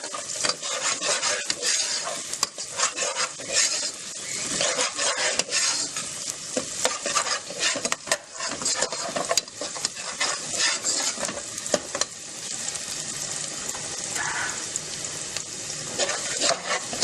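Garlic and dried ginger sizzle and fry steadily in a pan, with loud continuous crackling and frequent scraping stirs from a spoon against the pan, and no talking.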